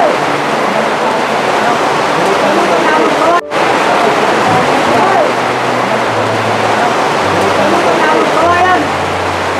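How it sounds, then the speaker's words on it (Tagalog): Heavy rain and strong wind beating on a mountain hut in a dense, continuous roar, loud and close, with people talking underneath. "Lakas ng hangin, lakas ng ulan."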